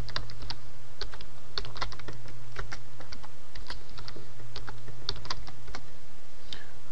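Steady, fairly close typing on a computer keyboard as a password is entered on an Ubuntu machine, with quick irregular keystrokes over a constant low hum, no talk.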